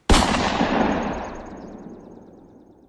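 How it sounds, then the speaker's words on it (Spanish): A single gunshot cracks inside the National Palace, one sudden loud blast followed by a long echo that slowly fades through the large building. "Un disparo hizo eco en todo Palacio Nacional."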